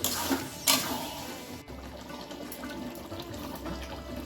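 Water poured into potato curry (aloo dum) cooking in a pan, a steady splashing, running pour heard up close with a brief louder burst early on, no voices.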